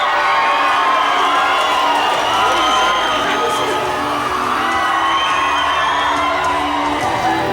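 Large crowd cheering and whooping at The Tribe's gathering in the Hippodrome in England, a loud, sustained wall of excited shouting and screams with no breaks.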